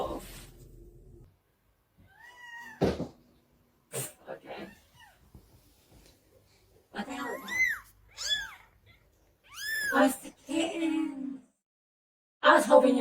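Little kittens meow in short, high, wavering cries that come in scattered bursts, some close and clear, with quiet gaps and a few soft snuffly noises between.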